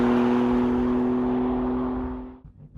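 BMW M3 Competition Package accelerating hard, a loud steady engine roar close by that holds strong, then drops away abruptly near the end, with no voices.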